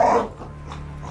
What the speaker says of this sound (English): using a stunt dog left over from Xena, I carried out my experiment, allowing the dog to attack me during the call